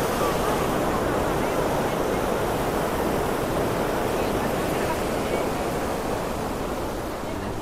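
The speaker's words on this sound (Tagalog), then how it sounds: "Malaking ilog to guys. Athabasca River." The large Athabasca River near Jasper, Alberta, rushing in a dense, unbroken roar of water that stays loud and even throughout, with no voices over it.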